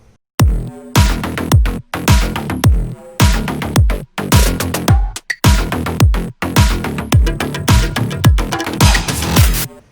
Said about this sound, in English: the first mid-tempo demo sounds like this